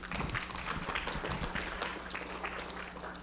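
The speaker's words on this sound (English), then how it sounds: "Let's give him another round of applause." An audience at a live-streamed event gives a round of applause, a dense continuous wash of clapping from many hands that holds steady for several seconds.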